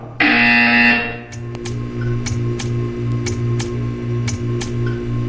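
A loud, harsh video game buzzer sounds for about a second, followed by steady, regular ticking.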